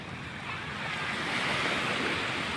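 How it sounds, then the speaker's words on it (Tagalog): Surf rolls onto the seaside shore of Punta Harina Beach in Ilihan, Batangas City, a steady close wash of waves mixed with wind noise that builds slightly partway through. "At tayo ay pumasyal dito sa tabing dagat"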